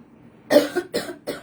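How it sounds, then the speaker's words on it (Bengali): A dry cough from a person who has been coughing in their sleep: three short harsh bursts in quick succession, close and fairly loud. "এমন কাশি হইছে, ঘুম শেষে ঘুমের মধ্যে কাশিটা খুব ডিস্টার্ব করে"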